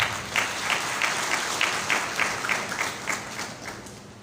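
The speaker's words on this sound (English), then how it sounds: "I think you deserve a round of applause." Steady round of applause from an audience at a technical university congregation ceremony, moderately loud sustained clapping lasting about four seconds with a few louder rhythmic claps standing out.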